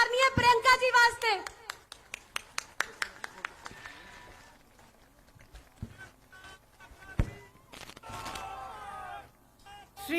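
A crowd claps at a political rally for a politician. A voice speaks first, then a run of evenly spaced claps follows before fading into quieter crowd murmur and talk.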